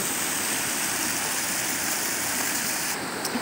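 River water flowing steadily at a site where works were done in the riverbed, a dense, continuous broadband rush, close and loud, with no talk.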